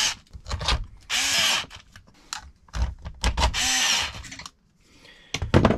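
A power drill drives long screws into an Arrma Big Rock RC car during a repair, with several short, close whirring bursts separated by pauses, plus small clicks and handling taps.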